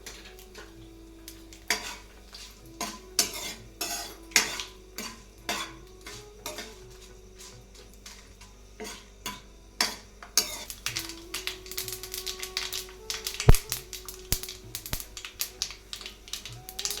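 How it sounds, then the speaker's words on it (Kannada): Mustard seeds, dried chillies and curry leaves spluttering in hot oil for a Mangalore cucumber sambar, a rapid irregular crackle of pops mixed with utensil clinks, close and fairly loud. "ಸಾಸಿವೆ ಎಲ್ಲ ಚೆನ್ನಾಗಿ ಸಿಡ್ದಿದೆ."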